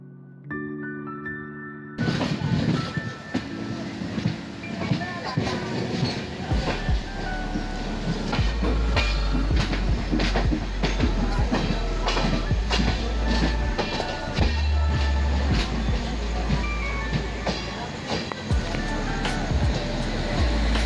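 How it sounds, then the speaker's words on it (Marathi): Train pulling into Ratnagiri station on a Vasai Road to Ratnagiri run, a loud continuous rumble and clatter with deep low roar building after a quiet start, broad rail noise filling the whole stretch. "फायनली 9:30 वाजता आपली ट्रेन पोहोचलेली आहे रत्नागिरी स्टेशनला."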